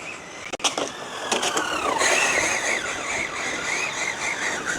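An Rlaarlo F10 V3 RC car drifting on tarmac, loud and close, with a few sharp knocks and then a sustained squealing tire screech over the whine of its small electric motor, wavering in pitch as it slides.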